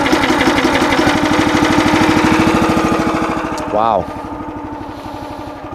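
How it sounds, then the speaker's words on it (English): Small gasoline engine on a Red Rock Trencherman towable mini backhoe, running loud and close after a pull start with a rapid steady chugging beat that slowly eases off, and a person speaks briefly over it. "that's a good working engine"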